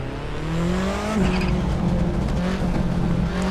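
Turbocharged car engine in the racing game Assetto Corsa revving steadily, with a turbo whistle rising over it, a continuous loud drone through the whole stretch.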